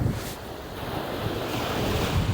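Atlantic Ocean waves wash onto a beach in a loud, continuous roar of surf, with heavy wind buffeting the microphone and no voices.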